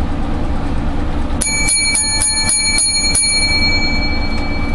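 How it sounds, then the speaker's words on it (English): A small bell rings seven times in a quick, even sequence, bright and close, over a steady low background rumble. "Seven lucky bells for this week's show."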